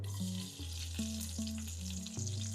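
Garlic cloves sauté in hot ghee in a pan with a soft, steady sizzle, punctuated by a few light clinks of a spoon as it is stirred.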